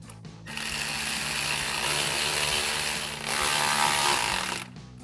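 A power driver with a 7mm socket tightens an intake hose clamp during a cold air intake install on a 2024-2026 Toyota Tacoma. The tool whirs loud and close in two sustained bursts with a brief dip between them, and there is no speech.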